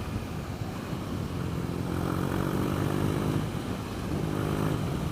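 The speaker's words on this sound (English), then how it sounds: "And the exhaust is just popping and burbling." A 2016 BMW R NineT motorcycle fitted with an Akrapovic exhaust runs steadily at speed, its engine note a continuous low rumble with a rough burble, loud and close, with wind noise over it and no talk.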